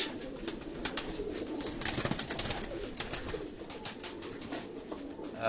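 Several pigeons of different breeds coo repeatedly on a city rooftop in Karachi's Defence area, soft throaty calls overlapping at moderate distance with light ambient background.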